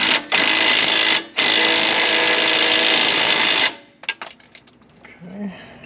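An impact wrench working on a 2007 Jeep JK's shocks during a Fox shock replacement, two loud sustained bursts of rattling hammering, the second running about two seconds, then stopping with some clunks and handling noises.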